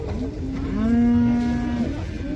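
A calf at a livestock bazaar in Uzynagash near Almaty gives a single drawn-out moo lasting over a second, loud and close, against a low background murmur.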